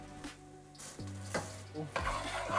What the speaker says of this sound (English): we're gonna cook the rice in here for about 30 seconds to a minute